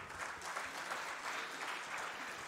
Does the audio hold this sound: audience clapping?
yes